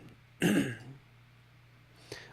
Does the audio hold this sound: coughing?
yes